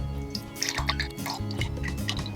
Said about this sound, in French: On va pouvoir ouvrir le robinet et mettre tout ça dans le pichet.